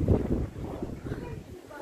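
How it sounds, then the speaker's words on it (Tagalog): Strong gusts buffet the microphone outdoors in a rural village, a loud low rumbling roar that surges and fades, with people talking over it. "Oh my God, the air is so strong."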